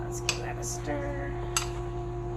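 Watermelon salsa with salt and lime juice is stirred in a bowl, a few soft utensil clinks and scrapes over a steady low hum, close but quiet.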